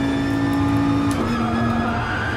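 Dodge Viper race car engine in Gran Turismo Sport, a loud steady drone holding one pitch, then dipping slightly as it shifts, close and continuous with no talking.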